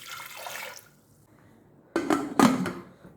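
Water splashes and pours into a pressure cooker holding dal with turmeric and asafoetida in a home kitchen, one soft pour followed by two louder, close splashing bursts with a brief metallic clatter.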